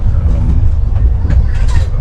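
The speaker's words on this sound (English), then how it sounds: "I am on the 3AC, the train from Udaipur to Jaipur." Passenger train from Udaipur to Jaipur heard from inside a 3AC air-conditioned coach, with a steady loud low rumble of the moving carriage and faint rattles and clicks, no talking.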